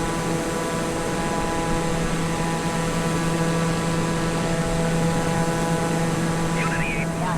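A Pilatus PC-21 turboprop trainer in Microsoft Flight Simulator 2020 drones steadily and loudly throughout with a constant engine hum, no break in the tone.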